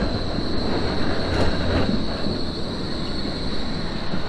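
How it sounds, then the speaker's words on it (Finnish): Metro trains and trams rumble past continuously in Berlin, a steady loud rolling clatter with a high whining wheel squeal running throughout, close by and without talk. "Metrot ja ratikat menee koko ajan tästä päältä ja edestä ja joka puolelta."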